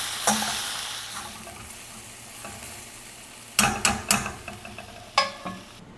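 Bitter gourd cooking on low heat in a pan, with a soft steady sizzle and several sharp stirring clatters in the latter half, and no talking.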